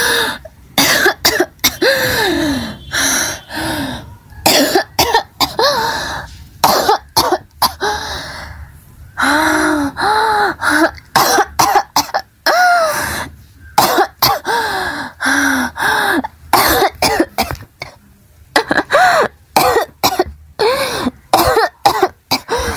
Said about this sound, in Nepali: आमालाई बेसरी खोकी लाग्यो